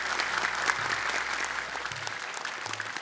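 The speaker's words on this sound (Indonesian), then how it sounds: "Boleh tepuk tangan untuk Kak Nabila." A studio audience at an Indonesian Quran memorization competition applauds a contestant named Nabila. The clapping is even and moderately loud, with a soft low hum underneath.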